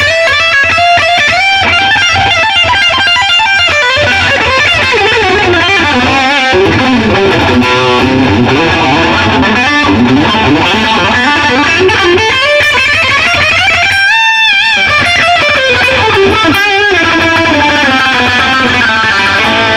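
An electric guitar played through a JOYO Sweet Baby Overdrive pedal rings out with crunchy distorted tone, continuous loud legato phrases and sustained notes sliding up and down for about twenty seconds, with no talking.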